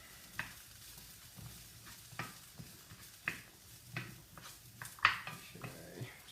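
Chickpeas frying in a hot pan while being stirred, a steady low sizzle broken by several sharp scraping and clattering strokes of the spoon against the pan, close up with no talking.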